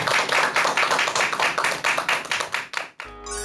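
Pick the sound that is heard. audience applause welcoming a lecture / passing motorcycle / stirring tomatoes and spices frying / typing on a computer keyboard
audience applause welcoming a lecture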